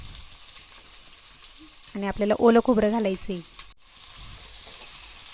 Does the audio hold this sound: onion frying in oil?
yes